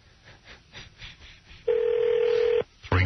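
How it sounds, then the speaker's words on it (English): On an outgoing telephone call, a single steady ringback tone sounds for about a second, loud and clear, after faint background noise and before another burst of tone. "It's ringing now, dude."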